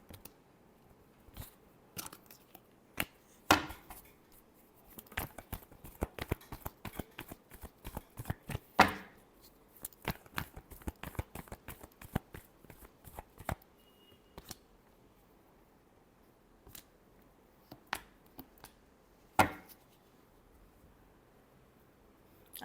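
A deck of tarot cards is shuffled by hand in a quiet room, a long run of sharp riffling snaps and soft slaps in uneven bursts, close and fairly faint.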